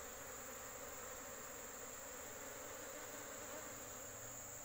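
Apis cerana honeybee colony buzzing steadily while being moved from its nest into a cardboard box, a dense continuous drone held at an even level throughout with no talk.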